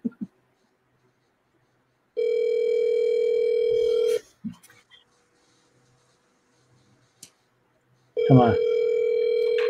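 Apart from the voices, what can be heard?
telephone ringing tone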